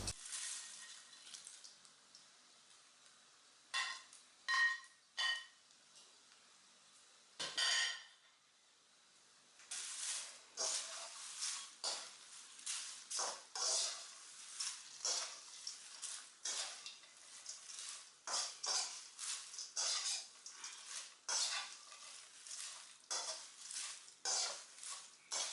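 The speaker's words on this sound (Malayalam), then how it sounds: "ഞാൻ അതിലേക്ക് നമ്മൾ വറുത്ത് വെച്ച പപ്പടം ഇട്ടിട്ട് നല്ലതുപോലെ ഇളക്കി യോജിപ്പിക്കുക" A spoon scrapes and clacks against a pan while stirring fried pappadam with chillies into a spicy stir fry, a close series of irregular metallic scrapes, sparse at first and then busy and rhythmic.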